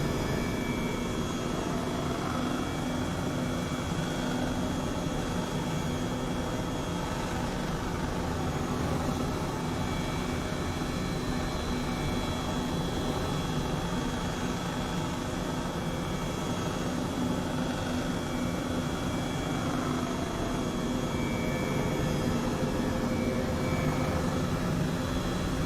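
Steady, loud aircraft engine drone from a plane climbing after takeoff in Microsoft Flight Simulator 2020, a continuous broadband roar with a constant tonal hum, unchanging throughout and with no voices.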